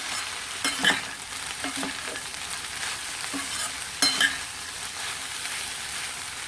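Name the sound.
vegetables sautéing in a pan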